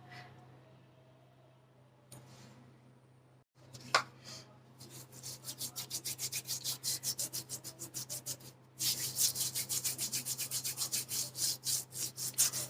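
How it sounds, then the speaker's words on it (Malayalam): Hands are scrubbed with a salt and oil scrub, making rhythmic gritty rubbing strokes, close and moderately loud, starting after a few seconds and growing stronger in fast repeated bursts toward the end. "നന്നായിട്ടൊന്ന് സ്ക്രബ് ചെയ്ത് കൊടുക്കണം കേട്ടോ."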